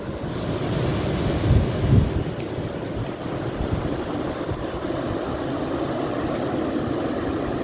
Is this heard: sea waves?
yes